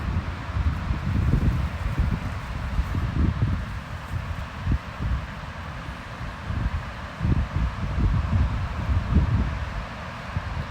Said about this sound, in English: Oh man, that wind is cold.